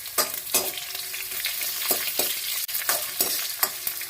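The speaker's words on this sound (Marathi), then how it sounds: "आता लसूण घालूया" Garlic sizzles in hot oil for a tempering with cumin, curry leaves and chilli, a steady loud crackle broken by repeated sharp stirring scrapes, with no talking.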